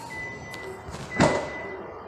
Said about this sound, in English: And then open the boot up.